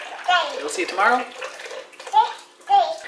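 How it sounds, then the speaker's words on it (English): A child splashes water in a sink, making soft intermittent sloshing under an adult's nearby voice and a voice. "Splashing all over the back."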